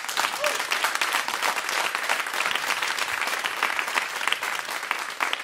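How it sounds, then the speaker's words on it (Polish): Sustained, dense applause from a concert audience at the 92nd Jazz.pl series concert, a steady even clatter of many hands that stays loud and unbroken throughout, with no clear voices standing out. "Możemy podziękować mu brawami"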